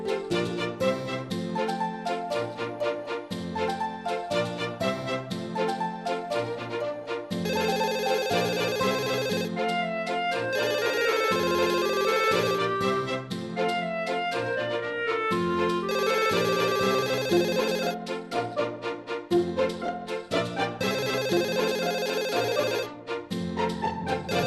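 A telephone keeps ringing in a repeating musical ringtone pattern, loud and continuous for a long stretch with no talk over it.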